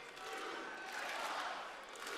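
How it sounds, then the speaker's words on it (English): A WWE Raw wrestling arena crowd chanting and shouting to rally behind New Day, a broad, fairly distant roar of many voices that swells and holds steady throughout. "Crowd trying to rally support for New Day"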